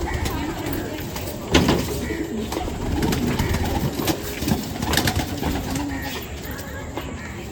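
Madrasi pigeons cooing, low repeated coos close by with rustling and a sharp knock, while a voice talks over them.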